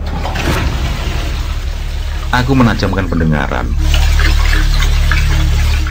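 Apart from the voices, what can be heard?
bathroom water tap running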